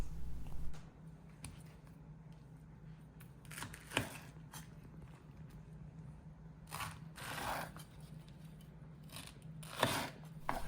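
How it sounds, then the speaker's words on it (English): A knife slices pineapple fruit away from the core, giving a few sharp, crisp cutting crunches spaced apart over a quiet background. "we're just making sure to cut off all of the tender fruit around the core of the pineapple"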